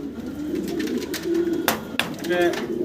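Pigeons at a farm coo close by in low rolling calls, with people talking over them and occasional cage rattles.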